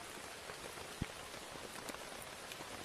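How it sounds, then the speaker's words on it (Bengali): Steady rain falls through a forest at a camping spot, a dense even patter of drops on leaves and ground with one sharper nearby drip, constant and moderately loud with no voices. "এখন বৃষ্টি চলে এসেছে, দেখো দেখো বৃষ্টি একদম কিভাবে পড়ছে বৃষ্টি।"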